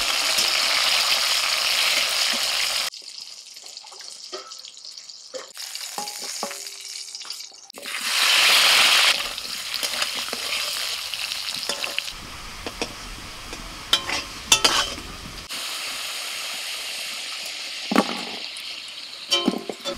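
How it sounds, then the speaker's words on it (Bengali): Flat beans and potatoes fry in oil in a pan over a wood fire, a steady crackling sizzle broken by bursts of louder spattering and occasional clinks and scrapes of a spatula. "সিম ভাজা হবে, আলু ভাজা হবে আর বেগুন ভাজা হবে"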